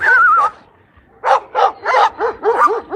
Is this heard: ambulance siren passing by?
no